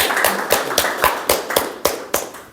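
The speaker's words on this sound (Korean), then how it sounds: "큰 박수 부탁드립니다." Attendees at a Sejong City education superintendent candidates' forum clap in slow unison. About nine sharp, evenly spaced claps ring out close and clear with no talking over them.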